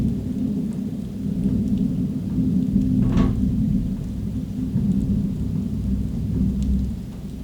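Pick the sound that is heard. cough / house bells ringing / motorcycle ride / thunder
thunder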